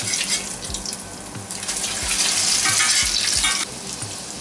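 Cutlets frying in an All-Clad D3 stainless steel saute pan, a loud continuous sizzle that swells to a brighter hiss partway through, with faint low thumps of the pan and food being moved.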